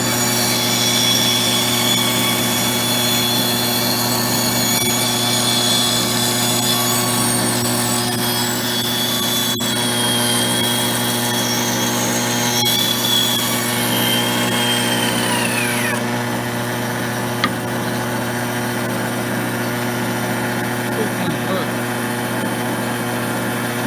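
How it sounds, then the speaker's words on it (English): A vintage Craftsman 12-inch band saw runs loud and steady through a cut, a continuous motor whine with high blade hum. The pitch shifts slightly as the cut progresses, then settles back to the idle drone near the end. "Pretty good for a bandsaw."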